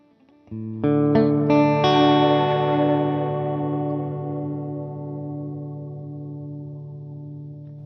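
Strummed guitar chords drenched in a wide, washy reverb from a Strymon Nightsky pedal, several quick strokes ringing out and slowly decaying into a long shimmering tail.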